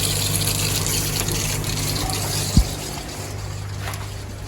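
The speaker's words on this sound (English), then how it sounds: "So the water's coming through now." Water rushing into a Big Blue filter housing just after installation, a steady loud gushing fill with a low hum, broken by one brief knock midway, close and continuous.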